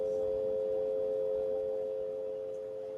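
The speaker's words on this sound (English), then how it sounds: "That's what they used as the dial tone." A steady telephone dial tone hums continuously for about three seconds, clean and unbroken, with no voices, easing slightly quieter toward the end.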